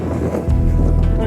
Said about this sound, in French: Il y a une petite risée.